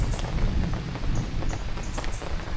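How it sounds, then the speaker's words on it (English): Steady, heavy rain pours on a truck campsite in Lam Ta Khlong National Park, a dense continuous patter of drops close by with no voices. "getting some rain"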